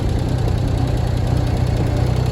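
Grandpa's old tractor engine runs steadily at idle, a loud, continuous low rumble with an even mechanical knock and no pauses or voices.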